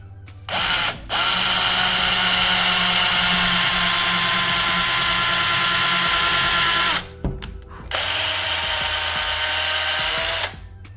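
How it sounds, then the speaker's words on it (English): A power drill bores into a part with a loud, steady whine that runs for several seconds, stops briefly, then starts again and runs for a few more seconds, with no talking over it. "Then we're gonna drill into the part."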